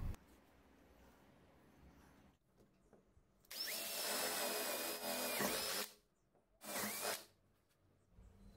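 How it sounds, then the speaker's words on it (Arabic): A power drill bores holes in a wooden shelf in two loud, close bursts, the longer one about two seconds, the second shorter, over a quiet workshop background. "هبدأ أعمل ثقوب في الرف علشان أبيت فيها منشار الأركت"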